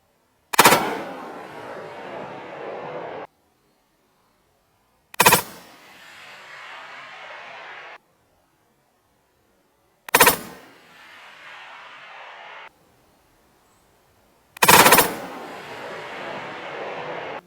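Four evenly spaced, loud rifle shots from a Tikka T3X Varmint and a Steyr THB fitted with a Recoil X, each sharp crack followed by a long rolling echo that fades into silence.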